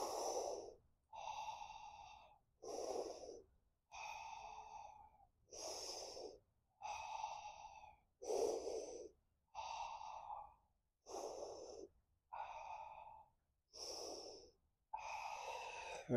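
A group in an exercise class breathes deeply together, about a dozen slow, even breaths in a steady rhythm, each a soft airy whoosh separated by brief pauses, close and clear with no talking.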